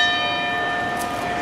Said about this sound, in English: ringing the bell for us to start this main event, this championship match